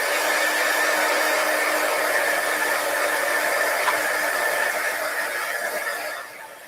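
A heat tool used to warm craft material blows steadily and loudly with a broad, hissing airflow that runs unbroken for several seconds, then drops off slightly near the end.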